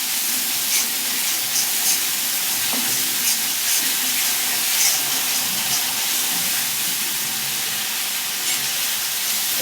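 Spices with salt fry in released oil in a pan for dahi potol, a steady loud hiss and sizzle running throughout with no talk.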